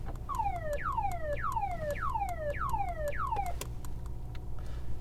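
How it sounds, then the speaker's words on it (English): Siren on an armored Mercedes S680 Guard, heard as a repeating falling electronic whoop, about six cycles in steady rhythm, over rain and a low rumble. "And there's also a siren sound."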